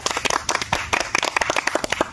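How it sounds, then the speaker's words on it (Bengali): Several people clap in a quick, uneven burst of close, loud hand claps lasting about two seconds, celebrating the winner of a mock committee vote. "তার জন্য একটা জোরে হাততালি হয়ে যাক"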